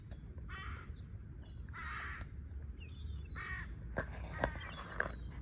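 A crow caws several times at moderate distance, harsh calls in short bursts with pauses between them, over faint outdoor background noise.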